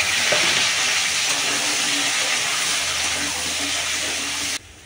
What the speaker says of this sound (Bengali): এবার গাঁঠি আলুর তরকারিটা বসিয়ে দেবো।